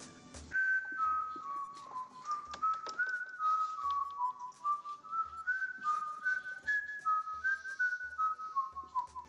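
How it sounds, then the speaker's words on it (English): A person whistles a wandering tune of sustained, mid-pitched notes that rise and fall steadily, fairly close and quiet, with faint game sounds behind it. "Do you mind not whistling?"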